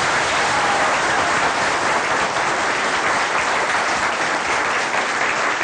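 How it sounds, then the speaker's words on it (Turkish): Steady, loud applause from a large television studio audience, dense clapping that holds evenly throughout without pause. "Şimdi lütfen kendinizi bir alkışlar mısınız dostlarımız?"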